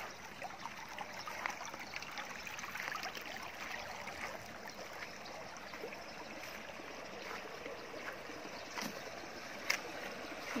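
Water trickles and flows steadily along an irrigation channel beside a vegetable garden, a continuous close, moderately quiet gurgle with faint outdoor ambience and no talking.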